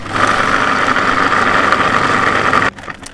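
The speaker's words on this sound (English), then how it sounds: "if your food processor is nearly as old as mine, you may have to do it in batches" An old food processor whirs at high speed through a meatball mixture with garlic and cracked black pepper, a steady loud motor drone that cuts off abruptly near the end.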